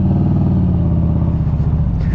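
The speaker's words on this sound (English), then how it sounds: "it's got TAB performance exhaust system on it" Harley-Davidson Street Glide fitted with a TAB Performance exhaust idles close by with a deep, steady, loping rumble, continuous and loud throughout with no talk.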